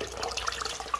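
Water drains from a central heating system into a bucket, a faint, close trickle and splash with small bubbling drips, no voices.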